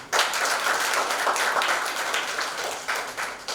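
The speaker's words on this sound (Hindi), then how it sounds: "उनके लिए ताली बजाइए।" An audience applauds the hero of The Battle Of Bhima Koregaon at a film introduction event, a burst of fairly close, lively clapping that rises at once and tapers slightly over a few seconds.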